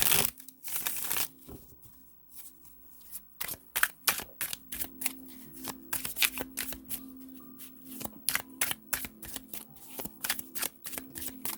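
Close, crisp shuffling of tarot cards in repeated bursts of rapid riffles and snaps, with brief pauses between, over a faint low hum.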